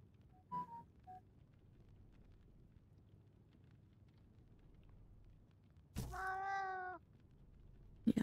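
A cat in the video game Reka gives a couple of short faint chirps early on, then one clear, drawn-out meow later, close and alone over quiet background hiss.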